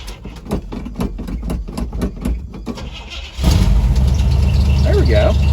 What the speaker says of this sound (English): Even with no battery, it'll start a 350 V8.